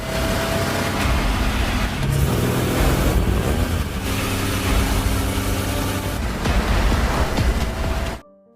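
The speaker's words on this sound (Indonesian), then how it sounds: "aksi kejar-kejaran pun terjadi" Cars race through a film car chase, with loud, continuous engine roar and road noise, swelling and shifting throughout before cutting off abruptly near the end.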